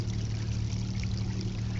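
A creek on rural property trickles and burbles over a small step of rock, a steady, fairly loud wash of running water heard up close without any talking.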